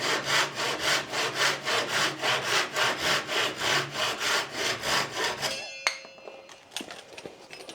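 A Japanese pull saw cuts through scrap wood in steady rhythmic strokes, about a dozen rasping pulls, then stops and gives way to a few light clinks and handling knocks.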